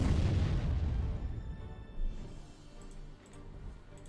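Artillery strike in the war strategy game Panzer Corps: a heavy boom opens and rolls off into a long decaying rumble, followed by a smaller thud and faint crackles.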